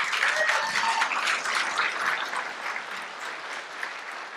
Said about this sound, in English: Although it's great to have everybody applaud